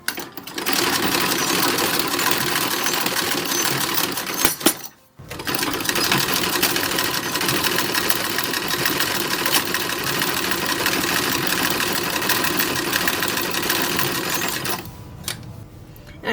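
Sewing machine stitching a folded seam on a 1930s-style Hooverette dress, a steady close mechanical whir running almost continuously, with a brief pause near the start and a slowdown at the end.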